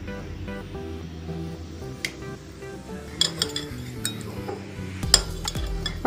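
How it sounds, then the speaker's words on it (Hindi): A spoon stirs honey and ghee into panchamrit in a vessel, giving soft clinks and light scraping that sharpen into a few louder taps near the end, fairly quiet and close with no speech. "अब सभी चीज़ों को हम अच्छे से थोड़ी से मिक्स कर लेंगे।"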